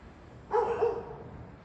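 A single dog bark rings out midway, fairly close and clear, trailing off into quiet background hum.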